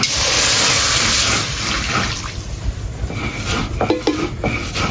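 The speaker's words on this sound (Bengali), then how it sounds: "প্রথমে কড়াইয়ে সামান্য পানি দিচ্ছি" Water poured in small amount into a wok on the stove, a bright continuous splashing pour at the start that fades after about a second and a half, followed by lighter clinks and pan noises.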